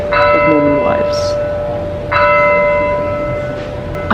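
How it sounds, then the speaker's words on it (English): A church bell in Italy strikes loudly and close by, two clear rich strokes each left to ring out and hum away, with faint background noise beneath. "6:05 church bell. And only 3 bells."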